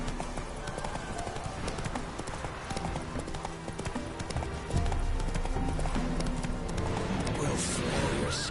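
A horse gallops in The Witcher 3 video game, its rapid rhythmic hoofbeats clip-clopping steadily and growing louder midway, with game voices and background sound alongside.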